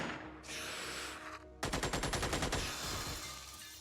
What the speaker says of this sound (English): Deadly hail of gunfire from our machine gun cuts down another alien.